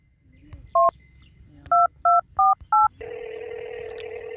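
Telephone keypad tones beep as a number is dialed in a Rajasthani home, one tone then a quick run of four, followed by a steady ringback hum; loud and close, with faint background noise and no talk.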